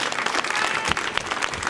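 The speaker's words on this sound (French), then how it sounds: "On peut les applaudir bien fort." An audience applauds after a karate demonstration at a forum in Elne. Dense, loud clapping from many hands runs steadily through the whole stretch, with no talking.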